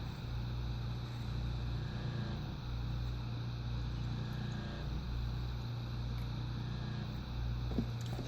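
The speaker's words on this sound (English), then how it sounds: "See if you can hear the generator surge at all." A generator runs steadily while charging an inverter battery bank through a Powerjack 8000-watt low-frequency inverter, giving a constant droning hum with no clear surge or change in pitch.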